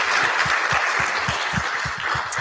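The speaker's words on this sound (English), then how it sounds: "So clap it up for you for taking the time" Audience applause fills a conference hall during opening remarks, a steady dense wash of clapping with distinct low thumps throughout, fairly loud and continuous with no talk over it.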